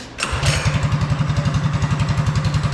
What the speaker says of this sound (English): cranked our idle up just a little bit